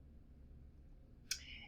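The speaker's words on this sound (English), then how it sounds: "you just mouse click on this, and you insert a row" A single sharp computer mouse click stands out against a quiet background hum, followed by a brief fading tail.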